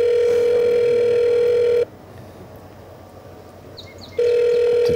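A telephone dial tone sounds while calling a distillery: a loud steady tone cuts off for about two seconds, leaving faint background noise, then resumes.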